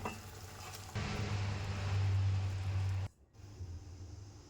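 Mango mustard gojju bubbling in a pan on the stove, a steady close sizzling, frying hiss that swells louder for a couple of seconds, then drops off abruptly and resumes more softly.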